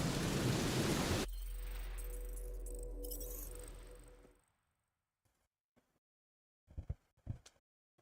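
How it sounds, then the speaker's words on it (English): During a lightning storm in the Guardians of the Galaxy video game, a loud crash of thunder gives way to a sustained rumble and rain-like hiss that fades into silence. A few faint bumps follow. "That is some really crazy lightning out there!"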